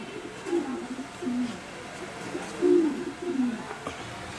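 Big-sized pigeons coo in several soft, low throaty bursts spread across a few seconds, close by over a quiet background with no talking.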